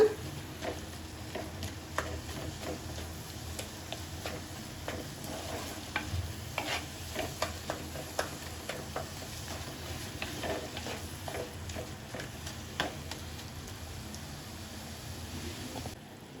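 Spiced masala for a spicy crab gravy being sautéed in oil, with a continuous low sizzle and frequent scraping stirs of a spoon against the pan, steady and fairly faint throughout, with no talk.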